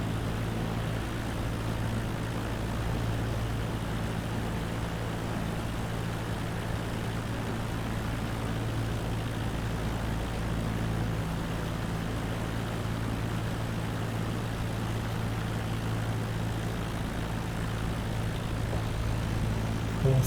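Propeller aircraft engine in Microsoft Flight Simulator 2020, a steady loud drone with a low hum held throughout, rising slightly as throttle is added, with no talk over it.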